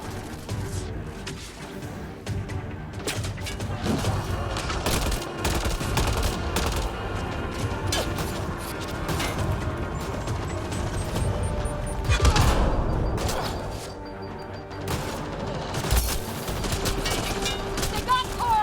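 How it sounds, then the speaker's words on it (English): Enemy gunfire in Mass Effect Andromeda, a steady dense barrage of shots and impacts running throughout with a heavier burst near the middle, layered over game effects and occasional voices. "Where are they shooting at me from?"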